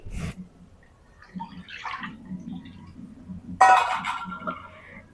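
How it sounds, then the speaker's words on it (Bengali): Water is poured into a wok to set up steaming, heard as a short close splash and gurgle with a faint clink, then quiet, and a louder burst of pouring near the end. "তার জন্য কড়াই দিয়ে দিচ্ছি পানি"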